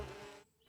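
Mosquitoes buzzing in a Motu Patlu cartoon, a brief, faint, high whining hum that cuts off quickly.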